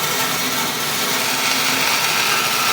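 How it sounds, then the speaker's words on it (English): A bandsaw cuts through a wood board, a loud, steady, bright buzzing hiss with a low whirring underneath, continuous and close. "you're just gonna roll through"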